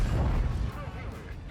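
A Progetto 65 tank in a tank combat video game fires its cannon in a single heavy boom at the start, then the sound decays. Someone talks over it.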